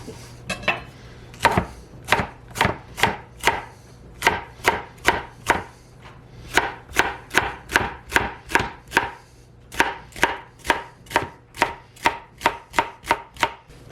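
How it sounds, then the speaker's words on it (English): A knife slices bell pepper quarters on a cutting board, a long run of sharp, evenly spaced close chops in quick bursts with short pauses between, and no talking. "I cut each half in half, so it's like I have 4 quarters here. And then I can slice them up."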